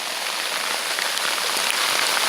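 Rain and hail pelting a tent at a mountain camp in the Sangre de Cristo Wilderness, a dense, loud, continuous hiss of drops drumming on the fabric close overhead, with no talk.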